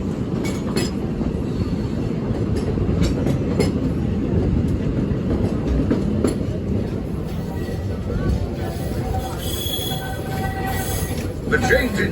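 The Walt Disney World Railroad train rumbles and clatters along its tracks in a steady, close rolling roar with intermittent wheel clicks and faint squeals, while a voice talks over it.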